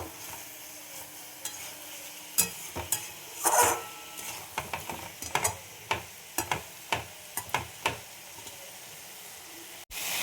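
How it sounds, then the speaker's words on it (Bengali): Spice paste for a rohu fish rosa jhol frying in oil in a pan, with a steady sizzle under a run of sharp stirring scrapes and clacks from a spoon against the pan, fairly close and with no talk. "দেখো মশলাটা দিয়ে তেল ছাড়তে আরম্ভ করছি।"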